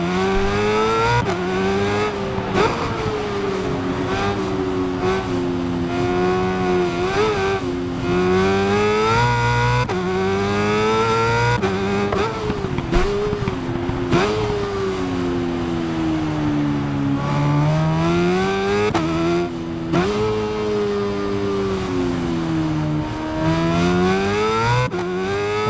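BMW S1000RR superbike in the Ride 5 racing game, its engine rising and falling in pitch as it brakes hard and accelerates out of a corner, a loud continuous whine with shifting revs and no talk.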